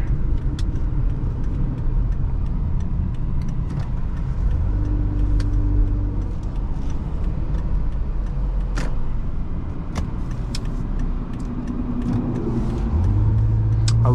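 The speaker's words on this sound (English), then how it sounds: "love the throttle tip in. It's just so eager to rev out." A 2009 Toyota RAV4 with a V6 engine and 4WD, heard from inside while driving, gives a steady loud cabin drone of engine and road rumble, rising slightly in pitch toward the end as it revs.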